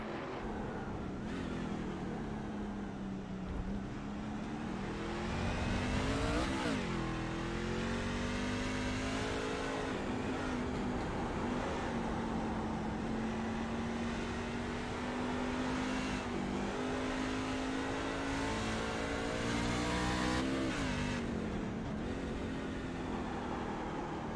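Race car engines in iRacing at Circuit of the Americas, a sustained high engine drone that rises and falls with revving and gear changes, loud and continuous without talk.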